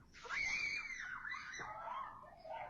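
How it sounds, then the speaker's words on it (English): Children screaming on a doorbell camera while being chased, high shrill cries rising and falling continuously for about three seconds, fairly loud and close. "these poor little kids are screaming"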